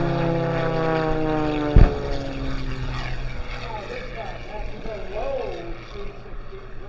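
A propeller aircraft at an air show roars past overhead, loud at first with a sharp crackle, then fading into a rumbling drone while an announcer talks over it.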